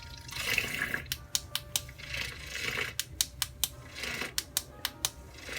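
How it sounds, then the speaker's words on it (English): Small handheld frother whipping a hot, caffeine-free fall drink, with several short bursts of sharp buzzing and clicking as it starts and stops repeatedly, set against faint background noise. "What I'm going to do now is just froth this up a little bit."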